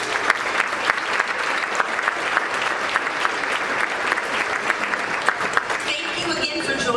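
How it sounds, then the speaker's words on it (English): A chamber of commerce luncheon crowd claps for the conference center staff serving the meal, a long, lively round of applause that thins out toward the end as a voice comes in. "let's give a round of applause for everyone at the Kellogg Center"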